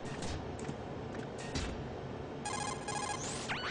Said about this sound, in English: Позвоним Роуз, может она нам что расскажет новое.